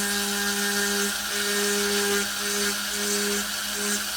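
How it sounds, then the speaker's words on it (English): A small rotary tool with a drill bit bores slowly into a miniature figure, giving a steady high-pitched whine that pulses in short bursts as light pressure is applied and eased. "I'm not pushing hard, I'm taking it slow, letting the drill bit do all the work for me."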